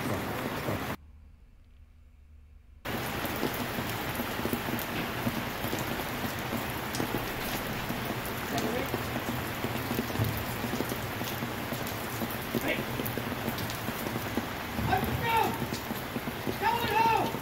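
Steady rain patters down throughout a firefighter funeral procession, a dense hiss broken briefly by a near-silent gap, with faint clip-clop hoofbeats and quiet voices under the downpour.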